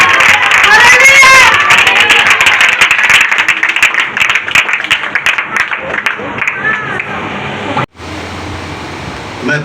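A church congregation claps to welcome pastors at a revival meeting, a loud dense round of applause that thins out gradually and stops abruptly near the end.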